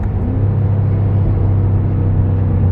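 A stock BMW M5 engine drones with a low, steady rumble at fairly constant revs, loud and close, with no talking.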